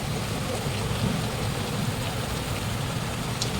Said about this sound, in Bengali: দেখো ভোটের দিন আমাদের এখানে কত জোর বৃষ্টি পড়ছে